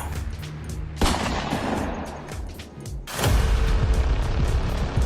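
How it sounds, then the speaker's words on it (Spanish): A loud burst of gunfire with sharp, rapid cracks, first a volley and then a heavier, sustained barrage that fills the space and echoes. "El sonido de la primera bala fue el inicio de un caos ensordecedor."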